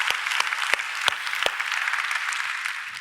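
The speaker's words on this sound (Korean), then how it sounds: "우리 하나님께 영광의 박수 올려드립니다" A church congregation at Sunday worship breaks into sustained applause, a dense, steady clatter of many hands that swells and then slowly fades, with a few sharp louder claps standing out.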